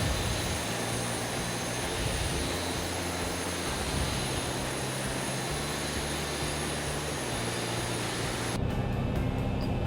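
A Boeing 737 jet engine spools up during start in the X-Plane 11 flight simulator, a loud steady roar with a high whine that holds throughout and shifts tone near the end.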